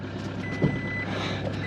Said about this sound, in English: Old truck, don't panic, don't panic.